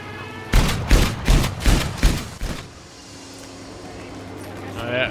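Anti-aircraft flak fire in Battlefield 5, a rapid run of about six loud, thumping bursts in the first half, then a quieter rumbling lull, with a voice talking over the action.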